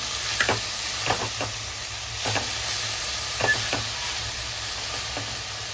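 Fenugreek leaves dropped into a hot tempering for a millet-season vegetable dish give a steady, moderate sizzle, with a few stirring scrapes at irregular moments and no talking.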